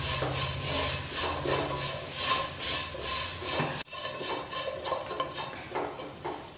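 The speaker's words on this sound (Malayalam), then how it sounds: "ഇനി ഇതിൻ്റെ എല്ലാം ഒന്ന് മണം ഒന്ന് മാറി നന്നായിട്ട് ഈ ഉള്ളികളായിട്ടൊക്കെ ഒന്ന് വഴണ്ടി വെക്കണം." Onions and crushed dried chilli stirred and sautéed in a pan for Kerala-style beef curry, a steady scraping and rubbing sound with soft sizzle, close and continuous, briefly dipping midway.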